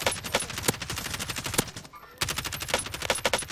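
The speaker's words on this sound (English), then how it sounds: "I'm about to shoot." Rapid gunfire from the Call of Duty: Modern Warfare video game: dense bursts of sharp automatic shots cracking in quick succession, a short pause, then another volley.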